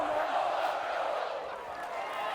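A roaring rugby stadium crowd at a Battle of the Colours schoolboy match, a thick sustained wall of voices in full cry that holds steady with only slight dips.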